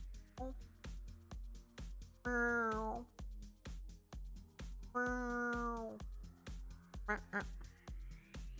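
A person imitates a cat, giving several meows: a couple of long, drawn-out ones and a few short chirpy ones, over a busy run of sharp tapping clicks.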